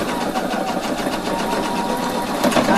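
A sewing machine stitches a waist facing two millimetres from the edge, a steady, fast mechanical whir running continuously and close up, with no talk.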